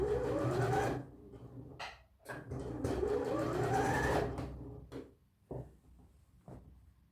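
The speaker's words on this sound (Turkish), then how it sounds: "şöyle düz yüzünü düz yüzüne yapıştırarak dikmeye başlıyorum." A sewing machine stitches a tunic in steady motorized bursts, humming and whirring close up for a second or two at a time, with brief pauses between runs.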